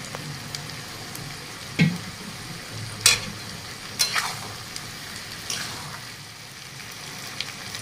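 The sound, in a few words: frying garlic with chopped green chillies for garlic pickle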